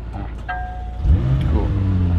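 A McLaren 570GT creeps forward from a standstill, its engine note rising into a steady low hum and light rolling rumble close by, with no talking during it.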